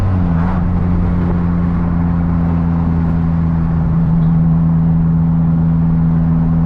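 A turbocharged Hyundai Genesis Coupe idles steadily up close, its loud, even engine drone holding a constant pitch throughout with no voices over it.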